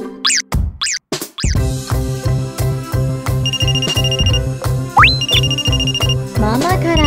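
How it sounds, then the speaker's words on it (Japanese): A mobile phone ringtone plays loudly and close, a bright repeating electronic melody over a steady pulsing beat, with a few cartoonish sound effects at the start and a rising boing partway through. "ママから電話だ。"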